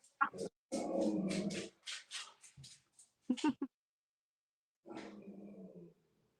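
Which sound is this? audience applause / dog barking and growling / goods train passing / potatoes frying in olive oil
dog barking and growling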